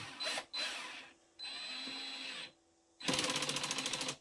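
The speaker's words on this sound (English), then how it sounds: "Now I set my clutch on my drill" A cordless drill whirs in short bursts with pauses between, ending in a ratcheting clutch clatter as a screw seats into a beehive base or nuc box, close by.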